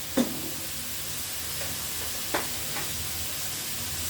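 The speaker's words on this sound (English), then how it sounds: "gonna add in some onions" Onions sizzling in hot oil in a pan with minced meat, a steady soft frying hiss throughout, with a couple of brief louder crackles and stirring bursts.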